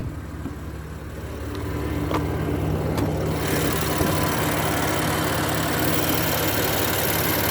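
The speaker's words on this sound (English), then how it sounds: "There you've got the lovely engine" A 2015 BMW M4 3.0 engine idles with the bonnet open, a steady low hum that swells louder after a couple of seconds and then holds even and close.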